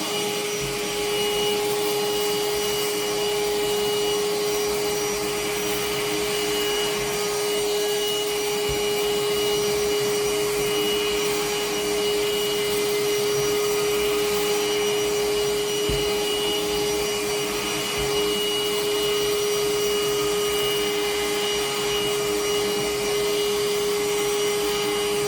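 A Parkside PHSSA 20 Li C1 cordless handheld vacuum cleaner runs close up, a loud, steady motor whine with a constant high tone and occasional faint bumps of debris.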